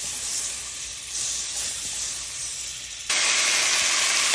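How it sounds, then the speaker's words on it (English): Beef searing in butter in a Dutch oven, a steady close hiss and sizzle that swells suddenly louder partway through, no speech. "You want to get a nice sear on each side of your beef"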